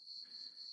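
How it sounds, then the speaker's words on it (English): Crickets chirping as a sound effect, a continuous high, thin trill that carries steadily and quietly on its own with no voices. "It's the sound of internet crickets."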